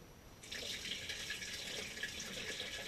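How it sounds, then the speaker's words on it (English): Creek water poured onto wood ashes in a container for filtering to make lye, a steady trickling pour that starts about half a second in and runs on without pause, fairly quiet. "Put a little bit of water in here,"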